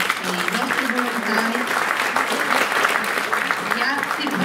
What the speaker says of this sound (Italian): se facciamo un applauso